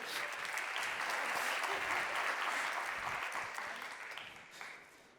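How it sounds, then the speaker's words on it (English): Audience applauding an aibo robot dog demonstration at a conference session, a dense, even round of clapping that holds steady and then tapers off toward the end. "please give applause for it"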